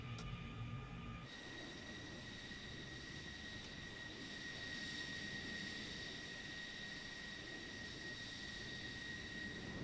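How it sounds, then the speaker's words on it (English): Aircraft engines spool up in Microsoft Flight Simulator 2020 during a cold-and-dark start of the Local Legend 16 jet, a steady droning hum with a high whine, after a brief click, continuous and fairly quiet. "all right, we hear the engines cranking up."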